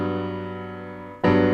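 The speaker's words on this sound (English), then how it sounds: "nice major 7th chord" Gospel piano sounds a major seventh chord that rings and slowly decays, then a fresh chord is struck near the end.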